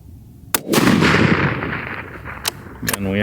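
A rifle fires a long-range ammunition test load, a sharp nearby shot followed by a long rolling echo across open ground, with a few faint clicks and handling noises afterward.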